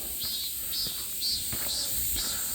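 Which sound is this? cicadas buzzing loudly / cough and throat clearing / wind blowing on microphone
cicadas buzzing loudly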